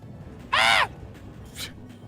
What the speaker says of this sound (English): Don't be making seagull noises, Nick.